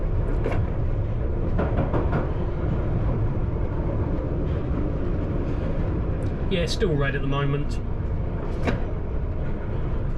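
Continuous rumble of a London Underground Piccadilly line train near Kings Cross as it slows, with a brief squeal and whine partway through and someone talking over the cab noise.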